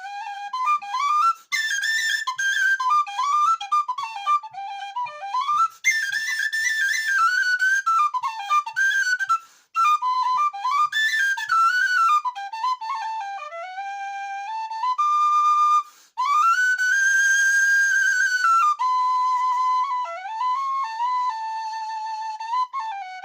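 A tin whistle with a Feadog head on a new-generation body, its inner cavity filled with Blu Tack, plays a lively melody of clear, bright notes, close and steady with brief pauses between phrases.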